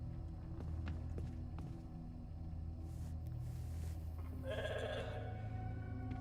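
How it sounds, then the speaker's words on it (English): Sheep bleating in the video game The Alters, a short harmonic bleat near the end over a steady low rumble of game ambience and faint footsteps. "Never thought I'd be so glad to see a sheep."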